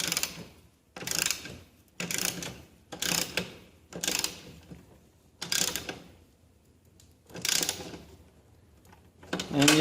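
Ratchet wrench snugging bolts on a Lawnboy Insight single-stage snow blower, short bursts of rapid clicking repeated about eight times with brief gaps, close and clear.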